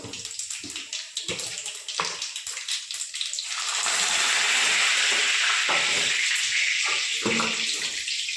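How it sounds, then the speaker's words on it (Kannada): Mustard seeds, cumin and curry leaves sizzle in hot oil, starting with scattered crackles and pops, then swelling into a loud, steady, dense hiss close by, with no voices. "ಎಣ್ಣೆ ಬಿಸಿ ಆಗೈತೆ ನೋಡಿರಿ ಸ್ವಲ್ಪ ಸಾಸಿವೆ ಹಾಕಿದ್ದೀನಿ ಒಂದು ಸ್ವಲ್ಪ ಜೀರಿಗೆ ಸ್ವಲ್ಪ ಕರ್ಬೇವಿನ ಸೊಪ್ಪು"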